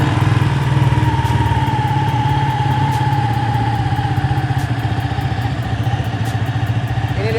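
Ducati Panigale 1199 S motorcycle settling into idle just after starting, a loud, close, steady throbbing engine with a slightly lumpy rhythm and a faint high whine above it, running alone.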